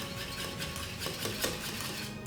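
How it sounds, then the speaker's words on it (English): A plant-based creme patissiere with coconut oil is gently stirred in a pot, giving a faint, continuous scraping and soft clinking of the utensil against the metal. "Just gently continue stirring or whisking"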